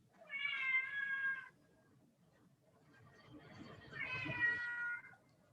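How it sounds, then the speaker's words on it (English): A cat in the background meows twice, two long clear meows a few seconds apart, faint against a quiet room. "I love the cat in the background."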